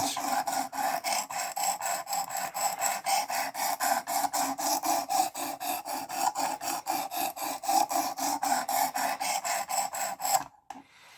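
Knife being sharpened on a grit stone of a Work Sharp Precision Adjust Elite sharpener, a close, rhythmic series of rasping strokes in steady back-and-forth succession that stops abruptly near the end.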